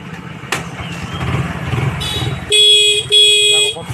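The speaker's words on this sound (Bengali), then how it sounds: "দেখো খুব সুন্দরভাবে হর্নটা বাজছে।" A motorcycle horn working again after a short-circuited wire was fixed, two loud, steady electric honks near the end, each about half a second long, following some engine rumble and handling noise.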